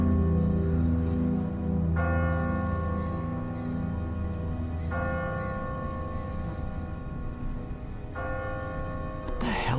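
A church bell tolls from a bell tower in The Walking Dead video game, three loud strikes a few seconds apart ringing over a steady low rumble and background sound.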